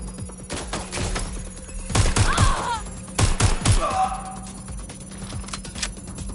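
Enemy gunfire in Watch Dogs Legion comes in two quick bursts of sharp shots separated by about a second, under ongoing game sounds and some faint electronic chirps.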